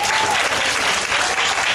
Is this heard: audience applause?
yes